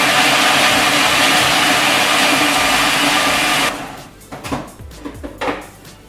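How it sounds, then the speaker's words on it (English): A blender chopping almonds and walnuts roars loudly for several seconds, then cuts out, leaving a few clattering knocks and rattles as the nuts settle. "start by just placing both of those in the blender"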